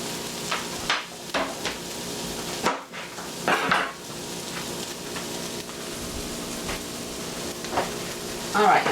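Bacon pre-cooking in a pan for a bacon egg omelette gives a steady close sizzle and crackle throughout, with occasional clatter and louder spatter bursts.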